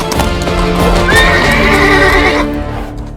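A horse neighs loudly and close by in a long, wavering whinny over the sound of hooves clip-clopping, with no one speaking.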